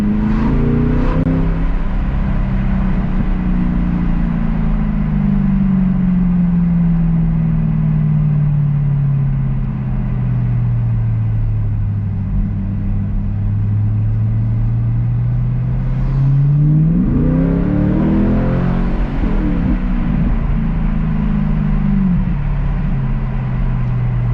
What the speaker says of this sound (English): especially in lower gears, you just get this nice burble